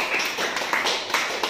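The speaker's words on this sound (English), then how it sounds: "Clap for them." Children clapping for the winning team of a school quiz competition at an annual day celebration, a dense patter of many small hands with sharp taps standing out, close and steady throughout.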